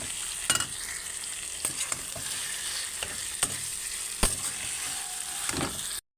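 Taro greens with garlic, turmeric and salt are stirred in a pan, a soft continuous sizzle broken by several distinct scraping strokes of the spatula at irregular intervals.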